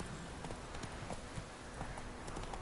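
Roach, Geralt's horse in The Witcher 3, trots along with a steady clip-clop of hooves, moderately loud against a constant background of game ambience.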